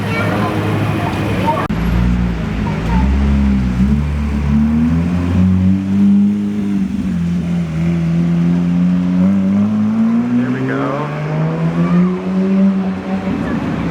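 A Porsche GT3 RS sports car on a Beverly Hills street, its engine droning loud and steady with rising and falling revs as it rolls past nearby, traffic noise around it.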